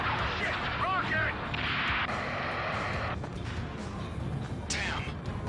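Missile and rocket blasts in the Ace Combat 7 air-combat game rumble dense and loud, with layered crashes and a sharp burst near the end, under game voices and radio chatter.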